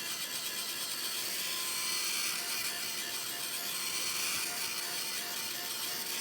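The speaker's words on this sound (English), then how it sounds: "bring in my heat tool and dry it a little bit" A heat tool blows a steady, loud, even whoosh with no breaks as it dries a freshly stamped card. It holds the same level from start to finish and no voices are heard.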